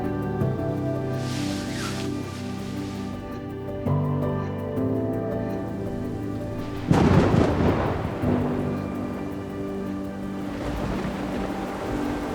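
Thunderstorm with heavy rain and strong wind, a continuous wash of rain and gusts, tonal background music throughout, and a loud rolling thunder crash in the middle that fades slowly back into the steady downpour.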